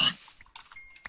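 Pig in a Minecraft survival match grunting in short, faint oinks amid sparse game sounds and a brief chime-like tone.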